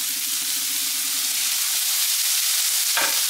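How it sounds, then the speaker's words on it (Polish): Ground beef and garlic fry in hot olive oil with a steady, loud, close sizzle that holds throughout, and a brief sharper spatter near the end. "U mnie oliwa już się ładnie rozgrzała. Wrzucam mięso i od razu też daję czosnek."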